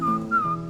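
A man whistles a short imitation of a whippoorwill call, two sustained clear tones with a slight dip between them, close and loud, with no other sounds.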